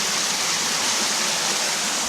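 Warm water, like bath water, flows along a small underwater channel in a boulder cave, giving a steady, close rushing wash with no break and no voices.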